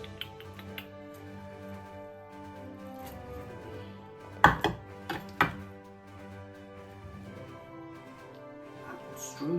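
A knife slices through apple strudel made with crisp filo pastry, cooking and sweet apples, lemon, unsalted butter and raisins, giving a few sharp crunching cuts midway over soft steady background music.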